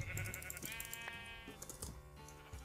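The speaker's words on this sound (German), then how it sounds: "Das sind alles Schafe, hier sind alles Schafe, alles Schafe" Sheep bleat repeatedly in a video game, several overlapping animal calls close by amid constant game background noise, with no speech.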